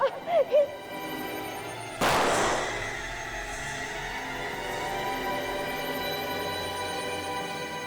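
A single gunshot in a Hindi TV crime drama scene: one loud, sharp crack with a long ringing tail that slowly fades, heard after a brief voice at the start.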